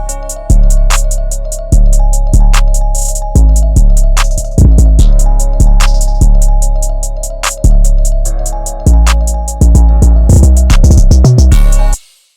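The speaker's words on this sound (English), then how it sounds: "So the 808 pattern sounds like this." Booming 808 bass pattern in an FL Studio beat with pitched-up notes, locked tight to rapid crisp hi-hats; loud, punchy rhythmic bass hits repeat throughout, then cut off abruptly at the end.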